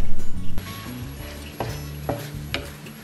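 Ground beef and tomatoes are stirred in a hot pan for a Turkish tantuni wrap, with steady close sizzling under a few scraping stirs of the spoon.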